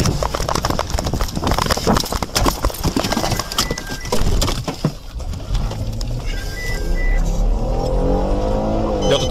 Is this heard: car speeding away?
yes